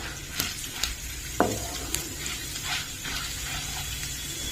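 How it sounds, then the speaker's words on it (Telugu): Tempering seeds and red chillies fry in oil in a pan, making a steady, close hiss broken by several sharp pops and crackles. "ఇవి కొంచెం వేగనివ్వాలండి."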